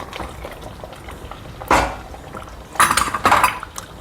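A spoon scrapes and clatters in a pan of prawns masala curry as it is stirred, with a few distinct metallic knocks and scrapes over a quiet kitchen background.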